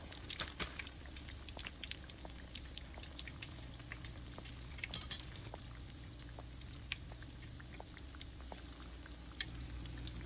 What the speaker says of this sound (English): They're floating while they're frying.